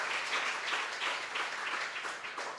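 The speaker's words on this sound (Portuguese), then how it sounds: "Você pode aplaudir ao Senhor" A standing congregation at a Sunday evening church service claps together, a soft, full wash of many hands swelling and easing in gentle pulses, somewhat distant and without talk.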